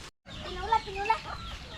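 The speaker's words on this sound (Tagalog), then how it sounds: "dami ng manok at saka itik" Chickens and ducks on a rural Filipino farm: a few faint clucks and short squawks over windy background noise, fairly distant, with a voice murmuring along.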